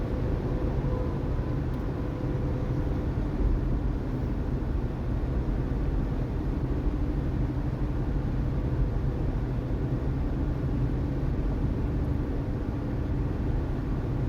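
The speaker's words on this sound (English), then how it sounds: "I can hear the car hum" Steady, broadband low hum of a car interior while driving, constant road and engine rumble with faint wind noise, unbroken and without talking.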